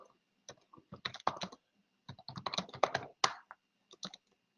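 Typing on a computer keyboard comes in quick uneven bursts of close, crisp key clicks, with short pauses between runs and no talking.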